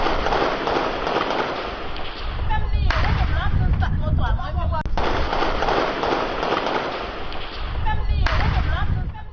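Gunfire on a street during violent unrest in Haiti, with repeated sharp cracks and bangs over a dense, noisy crowd and street din, some shots standing out loudly among the chaotic background.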